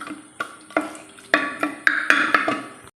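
Boiled potatoes being mashed into a simmering potato curry in a pan, heard as a series of distinct soft thuds and scraping squelches, close and fairly loud with no talk.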